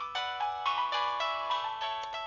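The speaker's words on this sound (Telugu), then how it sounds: "ఈడొకడు కస్టమర్ కేర్ టైం చూసుకుని ఫోన్ చేస్తాడు" An incoming call sets a phone ringing with a bright electronic melody, a quick run of repeated tonal notes, clear and alone with no talk.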